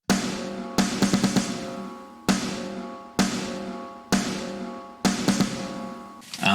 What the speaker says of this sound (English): I'll just play you those 3 snare samples together.